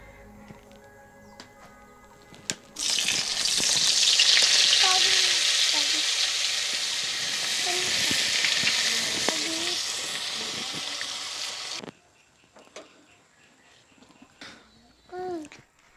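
Chicken frying in hot, smoking mustard oil and butter in a kadai sizzles loudly and steadily for about nine seconds, with faint stirring and clinks beneath; quieter kitchen handling sounds and a little talk come before and after.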